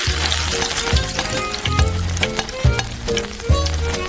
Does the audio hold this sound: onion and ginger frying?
yes